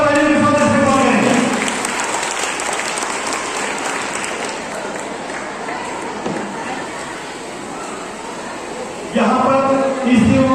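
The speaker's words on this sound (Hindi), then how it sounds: "तमाम बच्चों से गुजारिश करता हूँ जोरदार तालियों के साथ इस्तेमाल करें।" Children at an inauguration function for an Islamic quiz and Natiya competition break into loud, sustained clapping that fades slightly over several seconds, with someone speaking over it at the start and again at the end.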